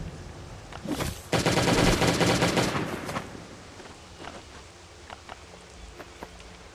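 A gun in the Last Day on Earth survival video game fires a long, loud automatic burst lasting about two seconds, followed by quieter scattered clicks and single shots.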